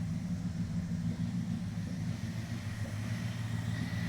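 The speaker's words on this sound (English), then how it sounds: "She's back to misfiring again" A Dodge Charger engine idles nearby with a misfire, a steady low rumble that stays even throughout, with no voices over it.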